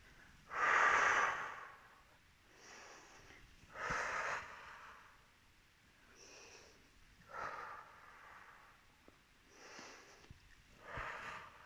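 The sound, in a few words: breathing in and out during Pilates exercise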